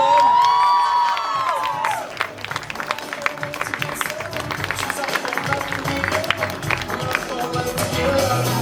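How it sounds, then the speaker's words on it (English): At a senior international debate competition final, a crowd claps and cheers loudly, with whoops and voices over a dense, steady patter of clapping. "Can you please have a huge round of applause for them?"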